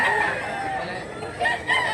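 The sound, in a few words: rooster crowing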